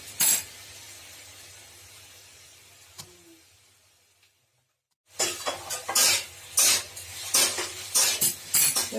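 Ridge gourd with salt and turmeric being stirred in a frying pan: a spoon clinks and scrapes against the metal, then after a short silence a run of repeated louder scraping strokes.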